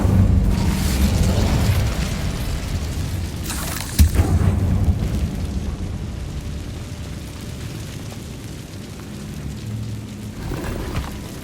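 An Incendio fire spell is cast in the Hogwarts Legacy video game, giving a sharp booming burst over a roaring, crackling wash of fiery noise that fades to a softer rumble.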